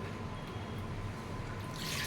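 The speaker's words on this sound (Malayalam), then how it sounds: "എനിക്കൊരു സോപ്പിട്ട് കൈ കഴുകുവാണ്" Water trickles and drips while hands are washed with soap, a faint soft splashing close by that swells slightly at the end, with no talking.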